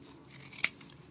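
A single sharp snip from pinking shears cutting fabric for a handmade drawstring gift pouch, close and crisp against a quiet room, with no talk.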